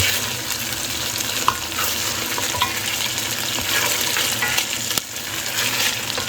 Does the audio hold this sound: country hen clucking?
no